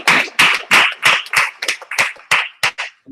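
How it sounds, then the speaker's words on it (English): A group claps loudly in steady rhythmic bursts, about ten heavy pulses with brief gaps, at a 2018 memorial trumpet-blowing gathering held at a religious organization's headquarters. No voices are heard over it. "I just want to give one round of applause for the great men of the I.S.U.P.K"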